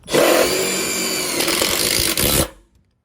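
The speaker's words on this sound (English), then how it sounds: "I find the lower torque, like the shittier drill, works the best for self-tapping" Low-torque cordless drill driving a self-tapping screw into a deck, a loud, close whirring grind that holds steady, dips once for an instant, then stops abruptly, followed by silence.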